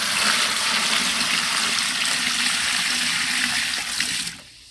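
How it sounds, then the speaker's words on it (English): Tanning solution is poured into a bucket holding fur and mink hides, a steady rushing splash of liquid that runs on for several seconds before it stops abruptly. "I'm going to pour solution in"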